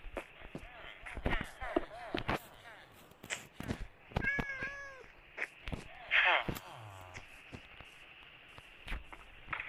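A cat in Minecraft meows in short game yowls as it is hit, with sharp hit and chopping sounds and footsteps mixed in, under a player's talk.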